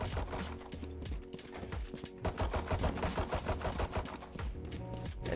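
Valorant gunfire rattles in rapid, dense bursts of close, loud shots, with sharp cracks overlapping almost continuously and brief gaps between volleys.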